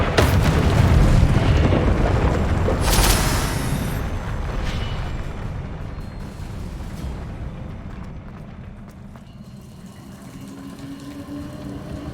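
Confringo fire spell explosions in the Hogwarts Legacy video game, a heavy booming blast with a sharp burst near the start, then a long rumbling roar that slowly fades, with scattered crackles and no talking.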